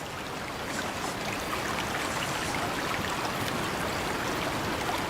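Water in a swimming pool at night gives a continuous, moderately loud rushing and trickling wash, steady from start to finish with no voices.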